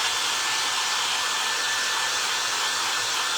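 Hair dryer blowing continuously and loudly on craft glue, a steady unbroken whoosh close by with no talk.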